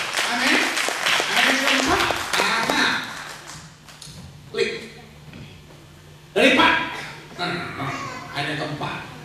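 A church congregation claps briefly during a sermon, a short burst of applause at the start before a preacher's voice carries on over a quiet room with occasional taps.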